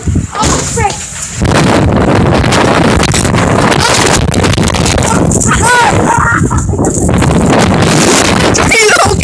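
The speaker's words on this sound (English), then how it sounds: "The wind does not like us." Strong gusty wind buffets the microphone outdoors for nearly the whole stretch, a loud continuous roar and rumble, with people talking underneath.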